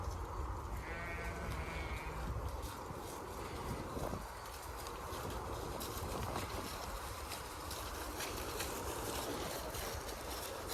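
Sheep bleating in a flock led by a ewe, with calls rising over a steady noisy outdoor background; one clear harmonic bleat stands out early, followed by ongoing broadband rustle and scattered animal sounds.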